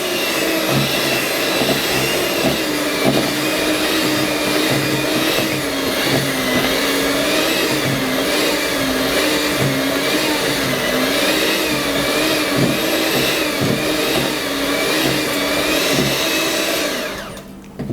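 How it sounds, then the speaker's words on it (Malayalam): Electric hand mixer beating Christmas fruit cake batter in a bowl, a loud steady whirring motor drone with slight wobbling pitch that runs unbroken for about seventeen seconds, then cuts off abruptly; no speech. "ഇനി ഒന്ന് ബീറ്റ് ചെയ്യാം."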